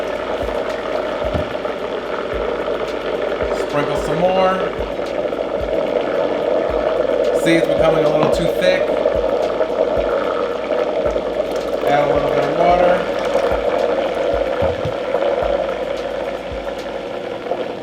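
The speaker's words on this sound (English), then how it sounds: "We're gonna add the water as we're going to make sure that we don't overload the blender." A kitchen blender whirs steadily as it mixes qatayef batter with water and semolina, a constant motor drone heard under someone talking, with a few brief pitch changes as the load shifts.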